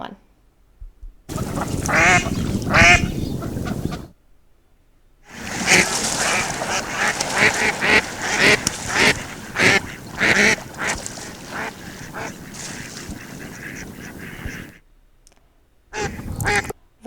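A female mallard duck gives series of loud, close quacks in several bursts separated by brief silences, the calls descending in rhythmic runs with no voices present.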